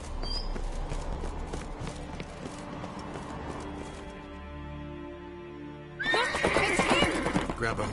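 A horse in The Witcher 3 neighs and its hooves clop over a hum of game music, then a louder burst of galloping hooves and stirring takes over near the end.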